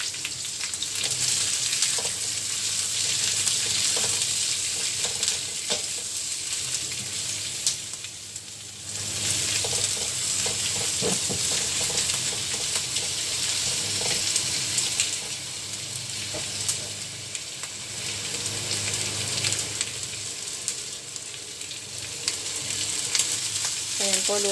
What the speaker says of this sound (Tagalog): Ayan po, bumabrown na po yung ating bawang.